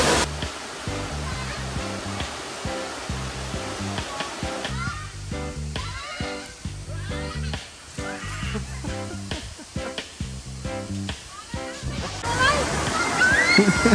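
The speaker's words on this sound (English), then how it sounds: "So 4 stages of the waterfall apparently." Kathu waterfall in Thailand, a multi-stage falls, producing a steady rushing and sloshing water roar throughout, with people talking over it.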